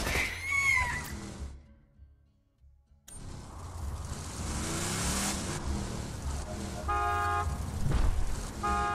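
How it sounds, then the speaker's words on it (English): A car horn honks in Borderlands 2 as a vehicle waits at a garage gate: a loud harmonic honk late in the clip over a rumbling engine, after a short silence. "Just drive up and honk your horn."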